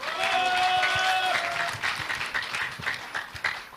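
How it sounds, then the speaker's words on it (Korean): Audience applause at a Liberty Korea Party national convention candidate debate, a dense, loud burst of clapping from a crowd that carries on steadily and gradually thins toward the end, with no voices over it. "큰 박수로 맞아주시기 바랍니다"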